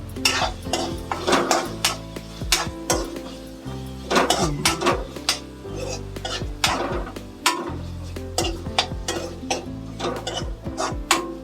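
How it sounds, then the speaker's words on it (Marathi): Egg rice masala is stirred in a pot, with busy rhythmic scraping and clanking of a metal spoon over a low sizzle, close and fairly loud, with no voices. "आता हे सगळं ढवळून घेते मी."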